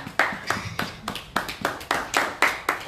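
A church congregation applauding to acclaim Jesus gives a run of sharp, evenly spaced claps in a steady beat, fairly close and clear, with a faint voice underneath.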